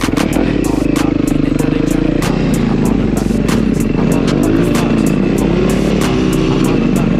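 A Suzuki DR-Z dirt bike with gold wheels runs loud and steady, its engine droning close by through the whole stretch with rhythmic clattering bursts over the top, at a stunt gathering.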